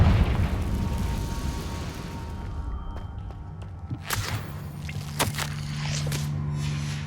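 A Confringo fire-spell blast in Hogwarts Legacy, with low rumbling booms and sharp bursting hits landing in a few separate bursts over a steady low drone of game ambience, with no talking.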